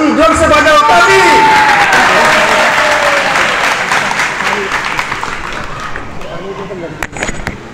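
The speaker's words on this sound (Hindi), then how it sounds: "ब्रज का लाला लाली जोर से बजाओ ताली" An audience at a Hindu devotional gathering bursts into loud applause after a spiritual talk, with dense clapping and some cheering that slowly thins and fades over several seconds, voices murmuring underneath.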